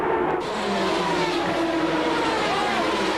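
CART/IRL race cars roaring off at the start of a 500-mile race, a dense, loud blend of engines revving and droning together at close range with no pauses.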